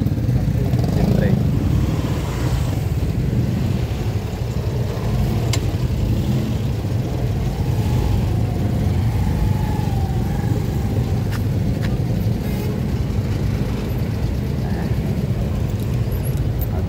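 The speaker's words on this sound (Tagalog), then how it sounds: "Hirap makalusot to. Kadami yung motor." Busy Davao City street traffic dense with motorcycles and cars, a continuous rumbling wash of engines and road noise close by, with occasional faint voices.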